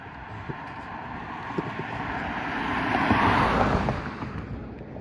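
A car drives past close by outdoors, its broadband road and engine noise swelling to a peak and easing away, with light wind rumble underneath.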